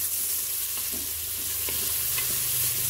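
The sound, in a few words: stirring sausages, peas and bacon in a Cookeo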